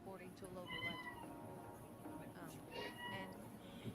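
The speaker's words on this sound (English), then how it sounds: "I hear kitty cats." Cats meow repeatedly, several drawn-out rising and falling cries at moderate distance over a constant background hum, with voices talking underneath.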